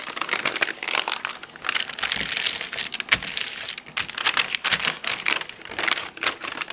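A recycled paper bag is unfolded by hand and its gusset reversed, producing close, loud crinkling and crackling in rapid irregular bursts with no pauses.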